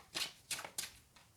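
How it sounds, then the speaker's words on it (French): A stack of factory cards from the board game Scythe shuffled by hand, three quick riffling bursts close up and fairly soft, with a fainter fourth at the end. "donc ça on va les mélanger aussi"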